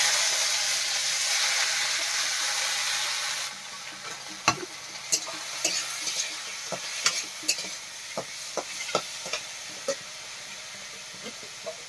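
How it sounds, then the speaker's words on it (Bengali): Lentils lightly frying in a wok with dried red chillies, a steady sizzle that drops lower partway through, then sharp stirring clatters and pops at an irregular pace, close and fairly loud, with no voices. "ডাল হালকা ভেজে নিয়েছি"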